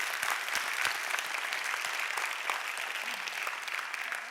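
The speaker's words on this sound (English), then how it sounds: "most calligraphers here would give them a good applause" Audience applause fills an evening event at the Getty Center honouring The Saint John's Bible calligraphers, a steady wash of many clapping hands heard from within the crowd, even and sustained throughout.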